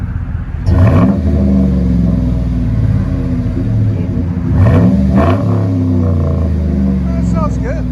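A 2010 Chevy Silverado LT with a 5.3L V8 and dual Flowmaster Super 10 exhaust idles with a deep rumble, then revs twice in sharp rising bursts that fall back to idle, loud and close.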